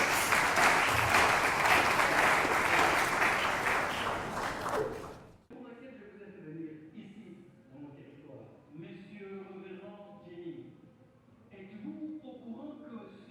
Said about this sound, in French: Si on peut applaudir très très fort avant que le film commence.